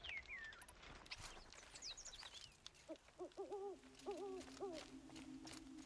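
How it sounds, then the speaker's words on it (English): In a video game, an owl gives a few soft, hooting calls in a short rhythmic group, faint and set apart from other woodland bird chirps and rustling. "And that sounds like an owl."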